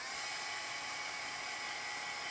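A handheld craft dryer blowing on chalk paste on a craft project, a steady high whining hum running alone for a couple of seconds.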